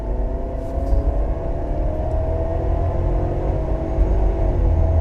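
A 2021 Ford Explorer accelerates up through its gears, heard as a steady, loud engine rumble and whir from inside the cabin, with the pitch rising gradually across the run and no talk.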